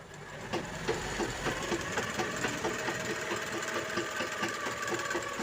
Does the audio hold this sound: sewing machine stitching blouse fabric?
yes